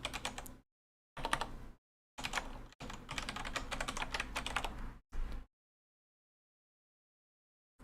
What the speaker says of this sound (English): that's my keyboard. Sounds mechy. It is Browns, I think. Cherry Browns.